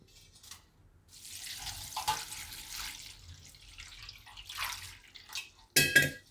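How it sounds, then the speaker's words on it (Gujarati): Water pours steadily into a kitchen container holding curry leaf sprigs for a few seconds with a splashy, hollow rush, then a brief louder clatter near the end. "આમાં આપણે પાણી નાખશું."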